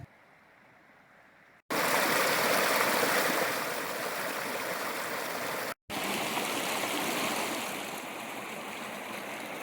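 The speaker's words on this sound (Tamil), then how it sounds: "ஒரு ஆறு அது பாட்டுக்கும் ஓடிக்கிட்டு இருந்துச்சுங்க" A river stream near Avalanche Lake in Ooty rushes in a steady broadband roar, close and loud, starting after a quiet moment and continuing with one brief cut.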